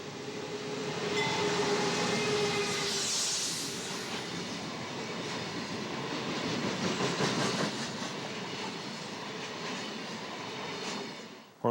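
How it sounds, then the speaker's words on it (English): A northbound empty coal train rumbles steadily through a short tunnel in Appalachian country, a sustained loud roar with faint wheel clatter and a brief high squeal near the start, holding for the whole stretch before an abrupt cutoff. "The northbound empty coal train charging toward us is about to thread itself through Tunnel 15, a short bore dubbed the Needle's Eye."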